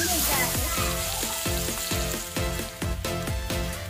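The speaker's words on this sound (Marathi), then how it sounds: "अशाच पद्धतीने सगळ्या साईडने आपल्याला या व्यवस्थित परतून घ्यायचं आहे" Capsicum sizzling as it is sautéed in a pan, turned on all sides: a loud, continuous fry with a quick run of rhythmic stirring scrapes, with no talk.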